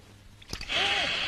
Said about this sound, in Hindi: नल नहीं बंद हो रहा, नल को बंद करो ना